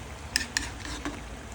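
Squid adobo cooking in a pan, with a soft background sizzle and a few sharp clinks of a utensil scraping and stirring against the pan.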